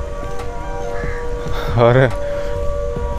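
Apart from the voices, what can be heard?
industrial siren wailing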